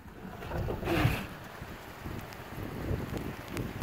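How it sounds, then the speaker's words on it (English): Strong wind gusts of up to 80 km/h roar across the microphone on a stormy November day in British Columbia, Vancouver, as a steady, rumbling rush with one louder gust early on. "And now it's extremely windy."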